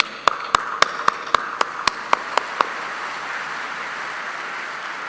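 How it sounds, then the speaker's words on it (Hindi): Ten sharp, evenly spaced claps ring out over about two seconds from a single person at a speech on food systems, then stop, leaving a steady low room hiss. "आप लोगों ने हमारे लिए बहुत बार तालियां बजाया है"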